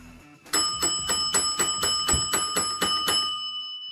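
A handbell rings loudly and rapidly about ten times, each bright metallic strike ringing out, and the tone decays once the ringing stops after three seconds.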